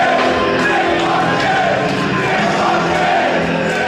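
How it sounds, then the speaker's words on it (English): A dense, loud wrestling crowd at an IWA East Coast deathmatch show chants Nick Gage's name without a break, a steady roar of many voices with whoops and yells rising over it. "Crowd just keeps chanting Nick fucking Gage"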